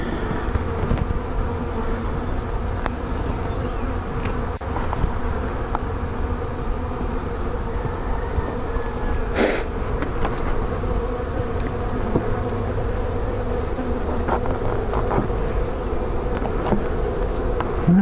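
Honey bees buzz continuously in an open hive during an inspection, a dense, loud, close drone with faint handling knocks and rustles scattered throughout.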